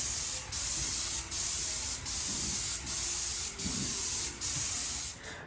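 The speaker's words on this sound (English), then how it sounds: "the painters are going to come in and they're going to spray all the walls and all the ceilings" Painters spraying the first coat of paint onto walls and ceilings, with a close, sharp hiss in repeated bursts of under a second each, separated by brief pauses.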